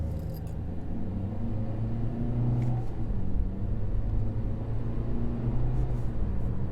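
A 2021 Kia Forte GT Line engine hums steadily from inside the cabin in manual mode, its pitch rising and dropping as it works through quick gear shifts under constant road rumble.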